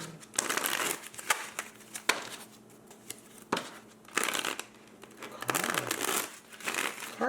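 A stiff deck of playing cards is shuffled in repeated bursts, each a crisp riffling flutter with short pauses between, close and fairly loud.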